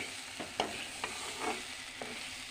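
Potatoes with spices stirred in a pan, a soft continuous sizzle broken by a few spoon scrapes and taps at an even pace, fairly quiet with no voices.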